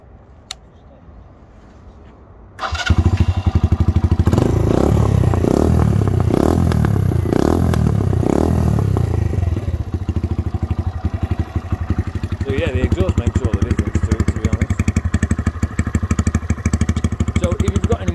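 A 2015 Herald Classic 125cc motorcycle engine starts after a few seconds of quiet, then idles and revs loudly with a rattly, steady chug close to the microphone.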